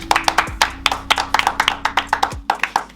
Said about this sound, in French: Applaudissements pour Charlie.